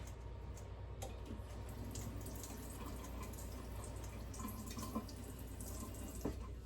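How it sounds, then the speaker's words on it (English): A kitchen tap runs steadily as a knife is rinsed under it, a soft continuous splash with a few faint clinks and drips. "Let me rinse off my knife."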